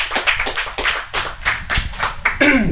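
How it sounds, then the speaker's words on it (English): At a talk on education, hands clap in a rhythmic series of about nine sharp, close, distinct claps, with a voice starting up just at the end. "One more round of applause for those takeaways."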